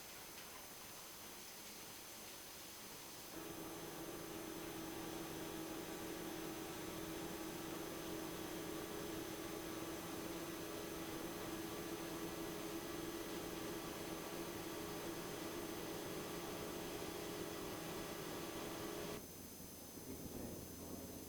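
An ATOX roller mill grinding raw material starts up with a steady industrial roar and a constant low hum, continuous and even for about fifteen seconds before dropping back to a quieter background.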